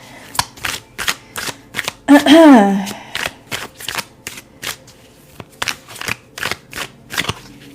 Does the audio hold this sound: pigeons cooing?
no